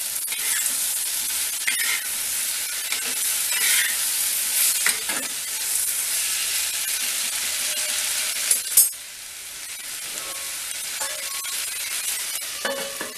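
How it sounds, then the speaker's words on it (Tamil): Brinjal (eggplant) masala frying and sizzling in a pan over low flame, a steady close sizzle with occasional stirring scrapes and a brief clink near the end, no talking. "லோ ஃப்ளேமில் வச்சு கொஞ்சம் நேரம் நல்லா வேக விடுங்க. அந்த கத்திரிக்காய் கலர் மாறணும்."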